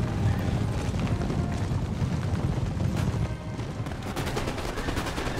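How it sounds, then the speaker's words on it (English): Artillery and musket fire in a Napoleon: Total War battle, a dense continuous rumble of distant booms and crackling volleys that keeps steady and loud throughout the stretch with no voices. "in comes the artillery"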